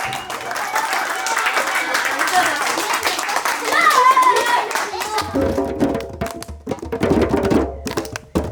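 An audience claps along at a school music day rap performance, the applause coming in scattered bursts that swell and fade over a rap beat, with children's voices and talk mixed in.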